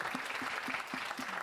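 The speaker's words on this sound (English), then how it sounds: "Please give a round of applause for our panel." An audience at a community forum on net-zero emissions applauds its panel in a dense, continuous wash of clapping, with a faint voice beneath.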